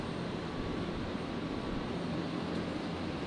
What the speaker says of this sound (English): Jetstar 824 coming in from Sydney.